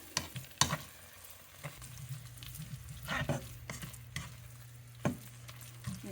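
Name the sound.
thick shrimp and crab burger mixture bubbling while cooking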